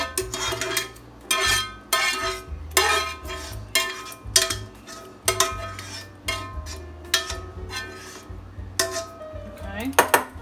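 A big spoon clanks and scrapes against a bowl while mixing a yellow squash casserole, giving repeated close, loud metallic knocks in an uneven stirring rhythm.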